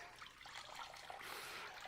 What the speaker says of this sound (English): And if I pour the water through here,